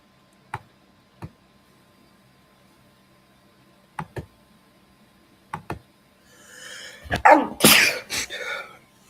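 After several seconds of near silence broken by a few sharp isolated clicks, one person lets out a single loud, close sneeze near the end.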